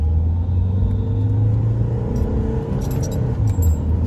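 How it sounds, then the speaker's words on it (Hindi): A 2016 Mahindra XUV500 accelerating hard during an acceleration test, heard as a loud, steady low engine and road rumble that fills the cabin without pause for a few seconds, with no talking. "यहाँ से अभी हम थोड़ा सा एक्सीलरेशन टेस्ट करते हैं इस गाड़ी का"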